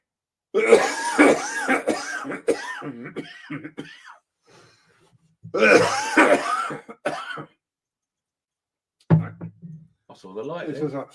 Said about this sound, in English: This was like 3 months of cough